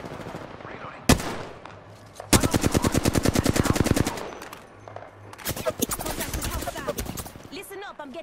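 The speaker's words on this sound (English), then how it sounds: "Getting shot at." Gunfire is aimed at the player in Apex Legends: a sharp single shot, then long rattling bursts of rapid automatic fire and later choppier volleys, loud and close, with game voices around them.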